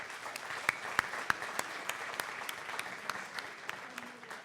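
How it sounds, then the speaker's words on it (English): At a business town hall meeting, the audience claps for several seconds, sparse sharp hand claps standing out over a thin, soft patter of applause in the room. "Absolutely, let's applaud for that."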